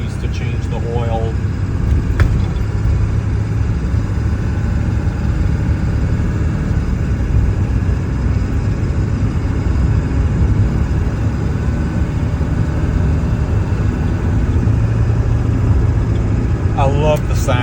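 A 2000 Ford F250 pickup's 7.3 Powerstroke diesel idles steadily, a deep low rumble running loud and continuous throughout, with faint talk at the start and end.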